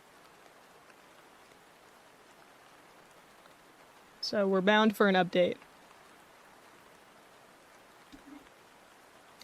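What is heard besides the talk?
rain falling outside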